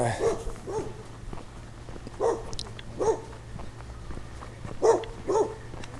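A dog barks in a garden, a series of separate barks spaced a second or so apart, moderately near over a low background hum.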